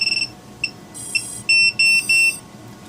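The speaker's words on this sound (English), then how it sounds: "let's hear what this sounds like in real life." A Lantian super loud electronic buzzer sounds a single piercing tone in several bursts: a quick stutter, a short blip, then three longer sustained blasts, loud and close with no talking.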